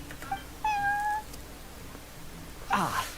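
A cat meows in Genshin Impact, a clear drawn-out meow followed later by a second, shriller yowl, close and prominent over a faint background.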